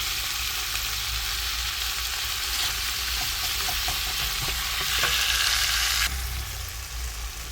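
Tomatoes sautéing in a pan for okra kara kulambu, giving a dense continuous sizzle and hiss with occasional stirring taps, close and steady, swelling briefly toward the end.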